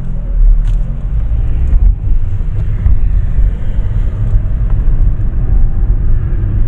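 A Ford Ka III car drives over a rough rattle test track, producing a steady, loud low rumble of road and engine noise heard from inside the cabin, with no distinct rattles standing out.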